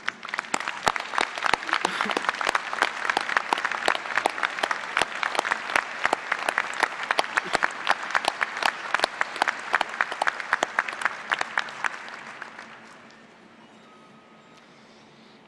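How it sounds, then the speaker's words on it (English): A commencement audience claps at a fall agricultural college graduation ceremony, a long steady burst of crowd applause that holds for about twelve seconds and then fades out, with no talk. "graduates, please give them a big round of applause of thank you"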